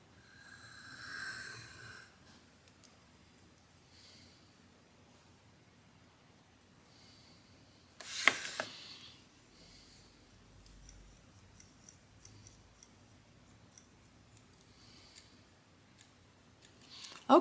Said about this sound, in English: I can also go on my Waterstone and sort of ramp all those teeth a little bit